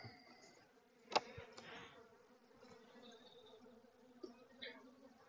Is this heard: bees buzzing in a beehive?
yes